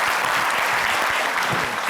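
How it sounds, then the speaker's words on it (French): A television studio audience applauds steadily and loudly for a guest, a dense unbroken patter of many clapping hands with no talk over it. "Rocar Yapo, que je vous demande d'applaudir"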